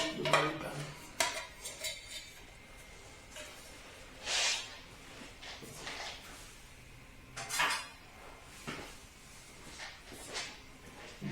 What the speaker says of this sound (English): let's remove the belly pan